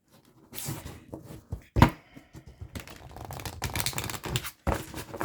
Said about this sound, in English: even though I do shuffle the cards off camera, I'm going to still just shuffle them